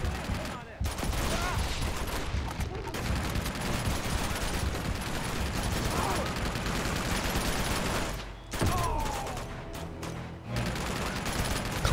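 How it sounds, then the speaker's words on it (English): Steady, dense gunfire from a firefight in the PlayStation action game Uncharted 2: Among Thieves, running almost without a break for about twelve seconds. A brief lull comes near the end before the shooting resumes, and a player talks over it. "Couple shots here, couple shots there."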